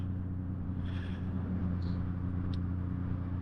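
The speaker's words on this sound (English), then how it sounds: "Is that the Lambo on Thailand streets?" Lamborghini driving along a Thai street, a steady low engine drone with faint road noise, passing without strong revving.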